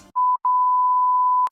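A steady electronic censor bleep, one short tone followed by a longer sustained one, loud and clean, masking a spoken word with nothing else heard over it.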